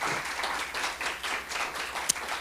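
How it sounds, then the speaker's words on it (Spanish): Sustained applause from a church congregation, a dense wash of many hands clapping steadily throughout, fairly loud and close. "Le podemos dar un fuerte aplauso al Señor."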